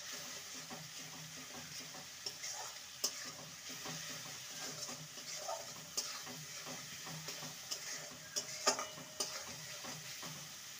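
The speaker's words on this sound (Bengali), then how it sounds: "সমস্ত কিছু ভালো মতন কষিয়ে নেব।" Spices, including Kashmiri chilli powder, stir-fried in a pan for prawn malai curry: a faint soft sizzle under repeated light scrapes and clinks of a spatula, close but quiet.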